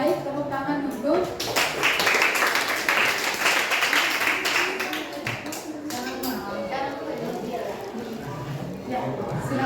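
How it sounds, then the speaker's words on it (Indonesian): Classroom students clapping hands together, a dense burst of many claps rising after about a second and holding steady through most of the stretch, with voices talking over and around it. "tepuk tangan dulu"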